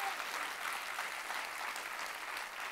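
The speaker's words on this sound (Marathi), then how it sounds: "टाळ्या वाजून देवाला धन्यवाद देऊया." A congregation claps together in thanksgiving during a church gathering, a steady, dense wash of applause lasting throughout without a break, fairly distant and even in level.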